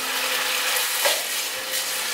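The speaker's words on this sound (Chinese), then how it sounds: "把调味料炒匀。" Eggplant stir-fried with soy sauce, vegetarian oyster sauce, pepper and sugar in a pan, a soft continuous sizzle with a faint stirring scrape midway.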